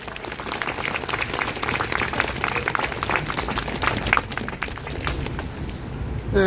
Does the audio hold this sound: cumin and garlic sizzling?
no